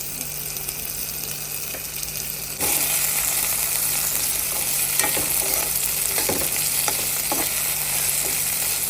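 Tomato, chopped green chilli and curry leaves fry in a pan with a steady, close sizzle that grows louder partway through, with soft stirring scrapes and no talk.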